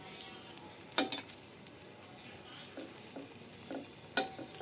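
Banana fritter pitha frying gently in oil over low heat, a soft, quiet sizzle with two sharper bursts of spatter or utensil contact.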